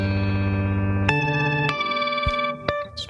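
Guitar-style looped tones play through a Microcosm effects pedal, giving sustained, shimmering, chorused notes with a slight grit. Sharp note changes come every half second or so, and each one leaves a lingering, echoing tail.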